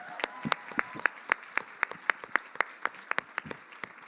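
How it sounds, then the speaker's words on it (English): An audience at a tribute dinner claps in steady, fairly faint applause of distinct, evenly spaced hand claps, heard without speech. "That's worth clapping for."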